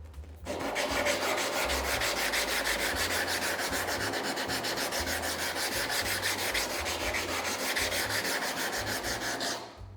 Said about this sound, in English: rub the 120 grit stone across your 200 grit stone